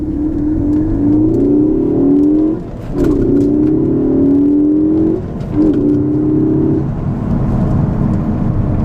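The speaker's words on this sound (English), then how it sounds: "I'm going to take my hands off the wheel and just go through first and second gear and show you what happens." A 2016 Ford Focus ST accelerates hard through first and second gear, the engine note rising steadily, dipping briefly at each shift, then climbing again, loud and close from inside the car.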